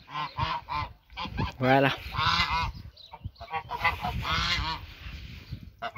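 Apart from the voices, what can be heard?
geese honking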